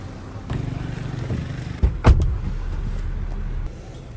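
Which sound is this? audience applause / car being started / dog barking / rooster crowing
car being started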